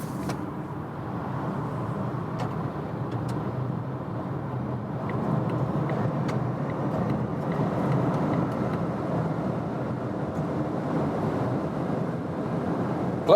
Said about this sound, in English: We're in Germany, German Autobahn, the new Volvo XC40 EV, and let's accelerate it out